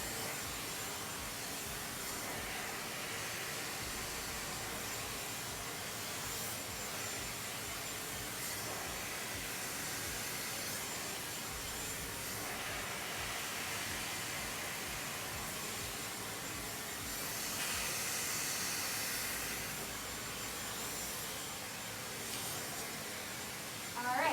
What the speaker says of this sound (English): you want to make sure you're always going and pointing your nozzle in the direction of the cuticle to close it down